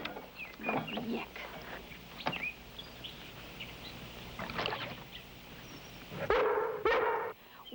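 A dog gives several separate barks among outdoor background noise, with a louder, closer burst of barking near the end.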